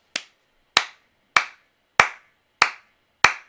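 Six single hand claps, sharp and evenly spaced about two-thirds of a second apart, close and isolated with silence between them.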